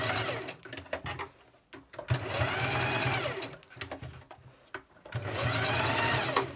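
A sewing machine embroiders fine stitches on a designer suit, running in rapid whirring bursts close by with brief pauses and clicks between runs.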